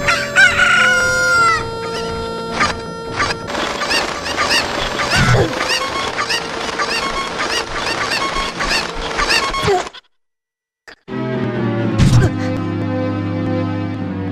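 Rooster crowing and hen clucking over busy game-style music in The Legend of Zelda, with a brief silent gap near the end before the music resumes.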